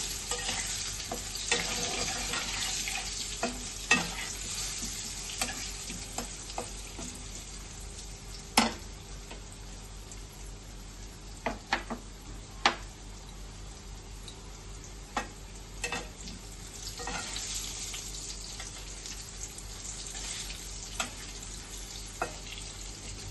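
Potato pieces fry in a pan with turmeric, giving a soft, continuous sizzle with scattered sharp clicks and taps of stirring over about twenty seconds.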